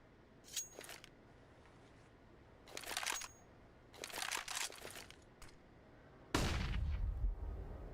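Bursts of gunfire in a tactical shooter match: short sharp cracks spaced across the moment, ending in a louder, fuller shot.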